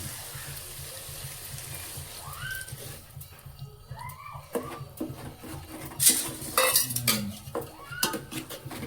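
Kadhi being stirred in a pot after chili is added, metal clinks and scrapes of a spoon against the pot with a watery slosh, fairly close, over a steady low hum, with sharper clanks toward the end.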